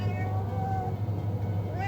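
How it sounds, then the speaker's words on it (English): A domestic cat meows in long, drawn-out wavering calls, fairly close and clear, over a steady background hum from a running computer. "An annoying cat."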